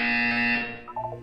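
A loud electronic buzzer from the game Portal 2 sounds alone, holding steady for most of a second and then breaking into a few shorter pulsing tones.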